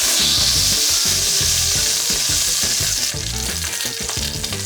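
A beef pot roast searing in a hot pan, a loud, continuous sizzle and spatter with a dense crackling texture and shifting low thumps throughout.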